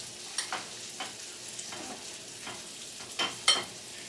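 Soft sizzling of ground beef in a frying pan, with occasional scraping stirs and sharper crackles, quiet and close.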